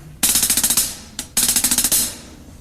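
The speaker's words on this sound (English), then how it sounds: "And on the hi-hat." A nine-stroke roll played on a hi-hat: two crisp, bright bursts of rapid ticking strokes separated by a short gap with a lone stray hit, loud and close, with no voices.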